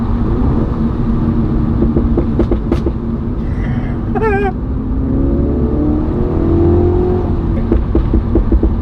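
A 2019 MINI John Cooper Works with a Pro exhaust roars and revs loudly and continuously, with the engine pitch climbing and falling.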